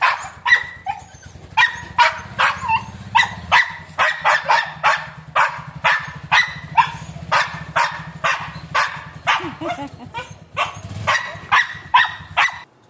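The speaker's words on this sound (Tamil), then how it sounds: "இப்போ அந்த டாகோடைய சவுண்டை நீங்கள் பாருங்களேன்." A dog left at home barks and cries as another dog is taken away, producing a long run of loud, close, rhythmic barks mixed with whimpering yips over a steady low hum.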